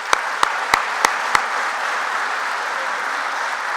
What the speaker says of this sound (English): I think that deserves another round of applause as well.